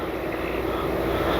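An E-flite Piper Cherokee RC model airplane's electric propeller buzzes steadily as it does a touch and go, a continuous close engine whine with no talk over it.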